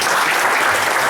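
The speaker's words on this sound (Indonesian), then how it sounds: "Tepuk tangan buat Prudential." Loud, dense applause from an audience at a Prudential sales gathering, continuous close clapping filling the whole brief moment without pause.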